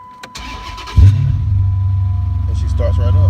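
A 2009 Dodge Charger fires up after a fuel pump replacement: a brief starter crank, then the engine catches with a loud rumble and settles into a steady close idle.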